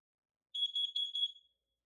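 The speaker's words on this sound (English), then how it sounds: "this is actually the very first smoke alarm I've ever acquired, and it's still doing phenomenal." A shrill, piercing smoke alarm from 2007 beeps in a quick pulsing burst for about a second, then cuts off into silence.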